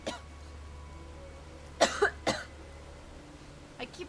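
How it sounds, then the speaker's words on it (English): Someone coughs several times: a sharp single cough, then a tight burst of two or three harsh coughs, and finally a softer throat-clearing cough, all close and fairly quiet over a low steady hum. "I keep coughing."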